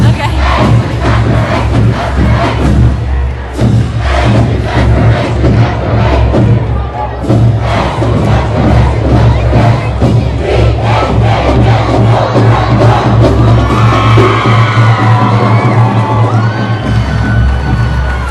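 Cheering and whooping from a big crowd after a girls' game fills the space loudly and without a break, with shouting voices and bursts of excitement running throughout.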